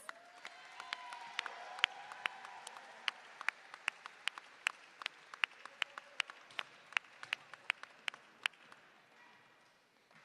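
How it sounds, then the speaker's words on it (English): A sparse crowd of spectators at an armed forces men's basketball championship gives a round of applause, individual claps distinct and fairly close, thinning out near the end. "What a round of applause for these athletes."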